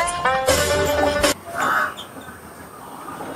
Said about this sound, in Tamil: காக்கா கத்தக்கூடாதுன்னு சொல்லுவாங்களா?